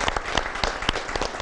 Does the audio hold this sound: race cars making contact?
no